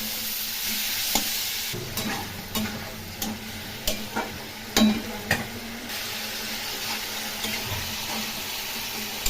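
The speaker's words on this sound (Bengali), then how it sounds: "এখন মশলা দিয়ে এই ফুলকপি আলু ভালো করে কষিয়ে নেব।" Cauliflower and potatoes frying with spices in a pan, a steady close sizzle broken by a series of sharp clacks and scrapes of a spatula being stirred through, no voices.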